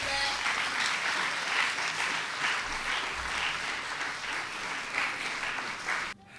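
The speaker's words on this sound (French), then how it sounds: "on applaudit Jemima, s'il vous plaît" An audience at a French-language televised book-summary contest gives a contestant sustained, even applause that continues for several seconds before cutting off abruptly.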